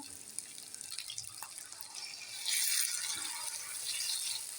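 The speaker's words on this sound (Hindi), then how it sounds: "तो अभी इसमें हम थोड़ा सा पानी ऐड करेंगे" Water poured into a pan of potato curry (dum aloo) brings a faint rattling trickle, then a brighter hissing sizzle swells midway and lingers as the liquid hits the hot masala.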